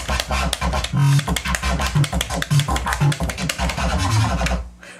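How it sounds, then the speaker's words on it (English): A bass line chopped by rhythmic gating, notes cutting in and out in stuttering bursts with short silences between, ending in a brief quiet tail. "they're actually different momentary gate effects on the bass"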